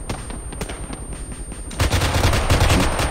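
Rapid automatic machine gun fire in Arma 3, a steady crackling stream that grows louder and heavier partway through, close and dominant with no talk over it.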